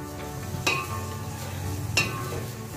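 Spinach being stirred into a dhaba-style dal vegetable mix in a pan over the gas, giving a soft steady sizzle with two sharp scraping clinks of the spoon against the pan.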